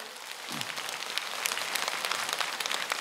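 A lecture audience applauds a Catholic priest's happiness talk, many hands clapping in a steady, moderately distant patter with no voices over it.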